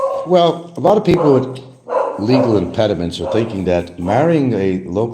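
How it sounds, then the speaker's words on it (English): Several dogs bark and yip in the background, partly masked by someone talking steadily in the foreground. "pardon the dogs"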